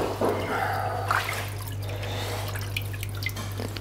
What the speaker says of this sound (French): on prend les brasses et on les plonge dans l'eau froide